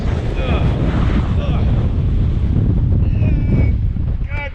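Strong wind roars and buffets the microphone aboard a 50-ton sailing ship on rough sea, a loud continuous rush with faint voices in the background.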